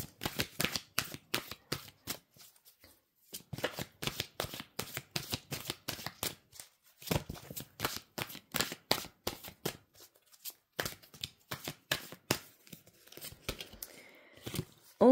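A deck of tarot cards is shuffled for a card reading, giving close, crisp riffling flicks in quick irregular bursts with short pauses between, alone and without talking.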